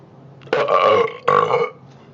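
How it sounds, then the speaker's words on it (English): A man lets out two loud, deep burps in quick succession, close to the microphone, each lasting about half a second. "can you burp for us"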